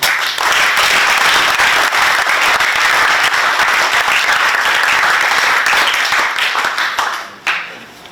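Loud, sustained audience applause at a high school Christmas tree competition honoring education officials, a thick continuous roar of many hands that fades out near the end with a brief final burst.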